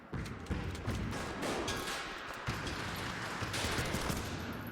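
Rapid machine gun fire in the video game Ape Out plays as a dense, continuous rattle of shots with sharp recurring bursts throughout, fairly quiet overall and without speech.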